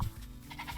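A goat in a video game gives a short bleat, a brief nasal wavering cry lasting under a second at moderate loudness.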